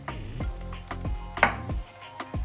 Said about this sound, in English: I'm gonna add it into the pot that's got the onions already basically frying up